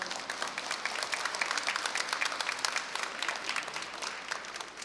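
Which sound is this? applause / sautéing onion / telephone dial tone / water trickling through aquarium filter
applause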